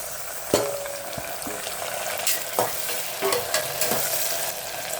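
Chopped onion and tomato fry in a pan for spicy mushroom biryani, giving a steady close sizzle broken by several sharp stirring scrapes and clinks of a utensil.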